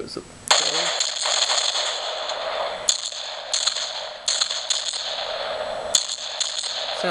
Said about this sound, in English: Sounds kind of like a shotgun.